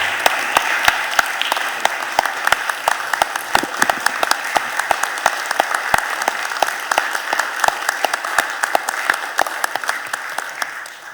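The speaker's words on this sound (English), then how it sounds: "could we give Philadelphia Finest a real big round of applause and support if we can." An audience at a city council budget hearing applauds for the police, a sustained, dense round of clapping with sharp individual claps standing out, steady and fairly loud for about eleven seconds.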